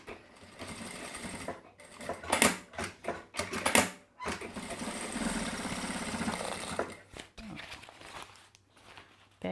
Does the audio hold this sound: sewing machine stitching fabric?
yes